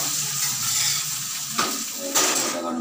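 Dried red chillies frying in hot oil for a singara filling, a steady close sizzle with stirring and a couple of sharper pan scrapes.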